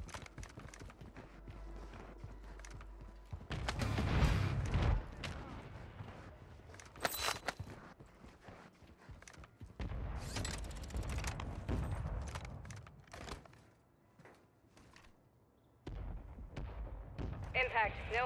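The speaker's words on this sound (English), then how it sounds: "Mortar strike inbound." A mortar strike lands during Rebirth duos video game play, a rumbling blast burst a few seconds in among other game noise, with more loud booming and gunfire-like clatter continuing through the sequence.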